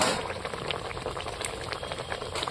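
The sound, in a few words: fish curry boiling in a pot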